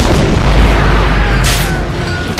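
A grenade explosion from the Hellboy film lands as a loud, deep boom with a sustained rumbling roar and a brief crackling burst partway through.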